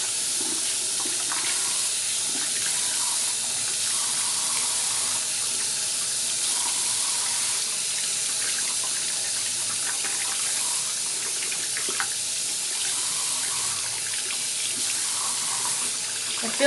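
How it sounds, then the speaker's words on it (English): A bathroom tap runs in a steady, hissing stream while a makeup sponge is rinsed beneath it, the flow constant and close for the whole stretch with faint shifts as the sponge moves under the water. "Let me go ahead and give it a good rinse."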